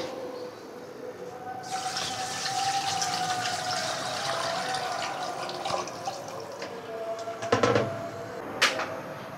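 About 2 litres of water pours steadily into a pot holding beef trotters for several seconds, a rushing splash with a couple of sharp knocks near the end.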